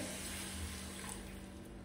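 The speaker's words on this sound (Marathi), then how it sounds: "आणि थोडंसं आता पाणी ऍड करायचं." Water is added to Maggi noodles cooking in a pan with tomato tempering, a short, steady, close pouring hiss.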